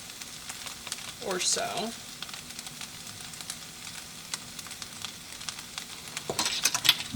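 Fish frying in a pan, a faint steady sizzle running throughout beneath a brief spoken phrase, with a louder burst of crackling near the end as paprika goes in.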